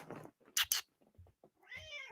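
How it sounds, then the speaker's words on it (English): A domestic cat meows close by, a short plaintive call early on and a longer drawn-out meow at the end, with soft rustling and small noises between in an otherwise quiet room. "the cat's come to visit too"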